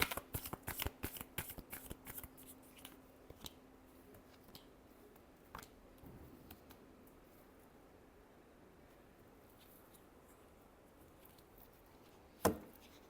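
Tarot cards being shuffled in a rapid riffling burst near the mic for the first few seconds, then a few scattered soft card taps and a single sharp slap near the end, in a quiet room.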